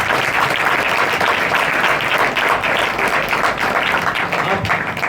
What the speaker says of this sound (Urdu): ہم تالیاں بجا رہے ہیں